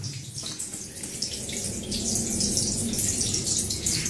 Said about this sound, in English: It's like there's a whole stream down here.